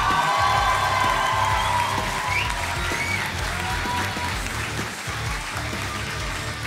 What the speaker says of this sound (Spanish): Un fuerte aplauso también, por favor, para mi gran amigo, el señor comediante Lucho Miranda.